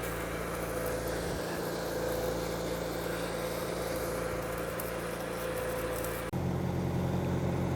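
Backhoe engine running at a culvert site: a steady, low, droning hum that holds even for several seconds, then shifts abruptly to a deeper, heavier tone near the end.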